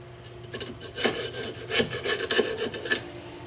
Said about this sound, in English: Scrape that rust off, let it fall down.